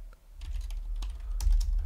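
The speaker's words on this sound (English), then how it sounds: "Sorry if you can hear my keyboard because the mic is like, yeah." Computer keyboard typing picked up close by a microphone, a short run of quick irregular clicks over a low rumbling hum, with no voice.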